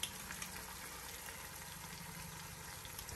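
Garlic, fermented black beans and shrimp paste stir-frying in plenty of oil for a lamb brisket pot, a steady close sizzle and crackle filling the whole stretch, with no talking.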